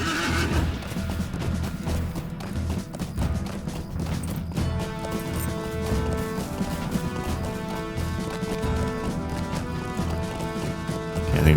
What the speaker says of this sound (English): I think I'm gonna lose my horse in the river here.